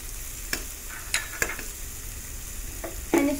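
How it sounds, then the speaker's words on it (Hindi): Garlic and chili fry in oil over a slow flame, a soft continuous sizzle with a few sharp scrapes and taps of a stirring spoon against the pan, quiet and close with no voices. "एंड इसको थोड़ा सा फ्राई करके ले लेंगे।"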